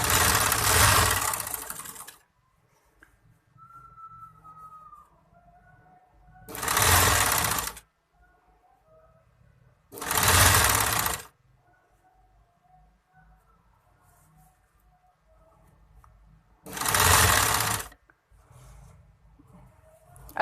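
A sewing machine stitches a sleeve in four separate loud bursts, each one to two seconds long, with quiet gaps between them.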